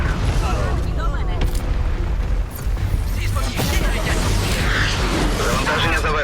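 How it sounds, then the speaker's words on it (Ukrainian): A grenade explosion in the video game Shatterline, a dense booming blast amid continuous gunfire and game action, loud and close, with a voice calling out over it. "Граната пішла! Граната пішла!"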